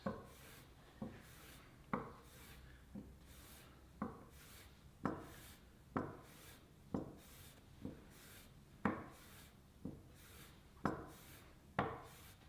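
Light, evenly spaced strokes of a blade's back drawn across an Ash & Co diamond sharpening plate, about a dozen soft scraping rasps roughly one per second, close and quiet with no talking.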